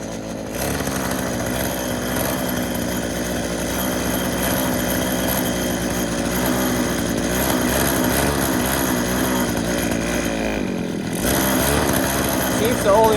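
An abandoned weed eater's small two-stroke engine runs steadily on choke, a loud, buzzing drone that holds a constant pitch, briefly dips near the end, then picks back up, with a voice talking over it.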